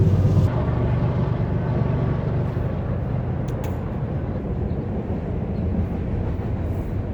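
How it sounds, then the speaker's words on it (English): A train rumbles past nearby, a steady low roar of wheels and engine filling the whole stretch without letting up. "There's a train coming by."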